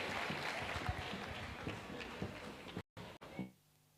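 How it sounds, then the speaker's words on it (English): Conference audience applauding in a hall, a dense steady patter of many hands that drops out abruptly near the end, leaving a faint hum. "Louder with the applause"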